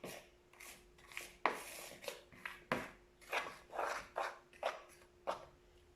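Knife scraping and mixing palets bretons dough in a bowl, a series of short rasping strokes in an irregular rhythm, close and fairly quiet, with a faint steady hum beneath.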